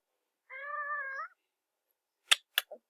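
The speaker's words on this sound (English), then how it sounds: "my cat will say hello" Pet cat giving one drawn-out, clear meow, followed after a pause by a few short, quiet clicks or taps; close and otherwise silent.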